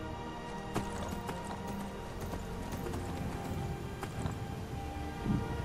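Horse hooves clip-clopping at a steady walking pace in the video game Skyrim, soft and continuous, with occasional faint snorts or whinnies and no talking.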